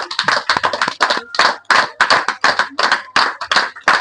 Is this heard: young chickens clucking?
no